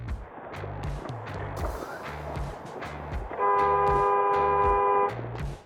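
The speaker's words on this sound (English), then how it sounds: "He honked at her, but she didn't seem to care." A car horn blares in one long sustained honk over steady traffic noise, recorded from inside a limo on the road toward Logan International Airport, loud and close.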